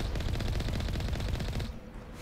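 Automatic turret fire in the Mass Effect video game, a dense, rapid, steady stream of shots that cuts off near the end.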